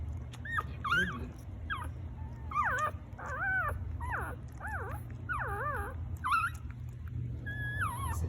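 Newborn Chiweenie-Labradoodle mix puppies whimper and squeal in repeated thin, wavering cries, several overlapping in close succession over a low steady hum.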